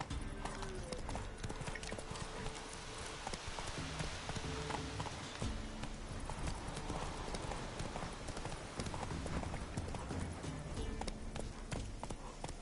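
Galloping horse hooves pound in a fast, continuous rhythm in the video game The Witcher 3, steady and full throughout with no pauses.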